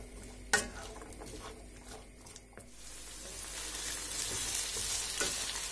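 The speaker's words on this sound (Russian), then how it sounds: "Все вместе будем обжаривать где-то 3 минуты." Carrot and onion sizzle steadily in a hot pan, with a couple of sharp clinks and scrapes of stirring early on, the frying growing a little louder toward the end.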